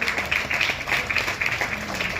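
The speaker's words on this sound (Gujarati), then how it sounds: "આપણે સૌ તાળીઓના ગડગડાટથી એમને વધાવતા રહીશું." Applause from an audience at a school gathering in Surat: a steady patter of many hands clapping together, fairly close and continuous throughout, with faint voices beneath.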